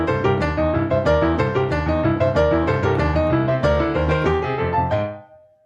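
Boogie woogie piano quoting a boogie tune, a driving rolling bass figure under bright chordal right-hand riffs, loud and close, ending on a ringing final chord that fades out.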